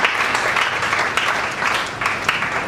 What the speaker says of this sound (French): Les modérateurs se lèvent, vous applaudissez